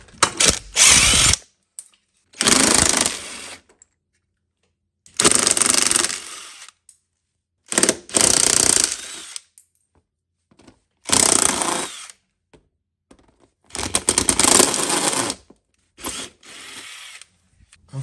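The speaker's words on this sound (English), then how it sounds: "let's drill this out real quick" A power drill with a 9/32 bit drills out a fastener on a Chevy Suburban rear AC line, running in repeated bursts of a few seconds each, whirring and grinding up close, separated by short silences.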